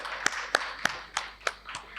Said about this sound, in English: Can I have a round of applause for her as well?